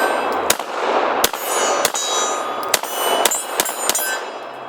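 Compact military pistol fired about six or seven times, each shot a sharp, loud crack with a ringing tail, spaced unevenly about half a second to a second apart over steady background noise, with no talk.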